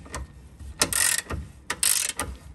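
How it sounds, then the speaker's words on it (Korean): A wrench or ratchet loosens a bushing through-bolt on a car's front suspension, giving two bursts of quick metallic ratcheting clicks close by, with fainter knocks between them and no talking. "이 상태에서 부싱 관통 볼트를 다시 풀어보면"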